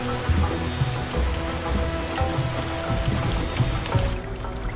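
Steady rain pattering on a surface, a dense, even wash of drops close by, with no voices.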